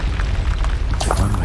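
Spell explosions from Bombarda and Confringo in the Hogwarts Legacy video game, a sustained loud rumbling boom with heavy low-end roar and a brighter burst about two-thirds through.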